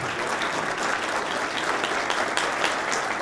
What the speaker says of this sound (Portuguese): Peço então uma salva de palmas para os nossos participantes.